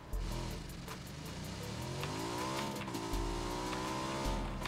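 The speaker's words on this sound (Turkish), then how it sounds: "Araba göremiyorum ama motor var yani. Üç tekerlekli." A three-wheeled motorbike driving in PUBG, its engine whining and rising in pitch as it accelerates and turns, close and continuous with a low rumble underneath and tire noise.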